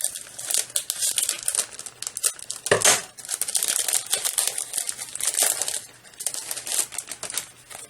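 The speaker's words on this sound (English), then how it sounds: "excuse the crinkling of the paper while I get these out." Paper crinkles and rustles continuously and fairly close while craft pieces are pulled out, with a brief louder crunch near the middle and no talking.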